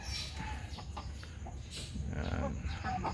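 A Rhode Island hen clucking softly at a farm, faint short calls scattered over steady background noise, with someone talking quietly nearby.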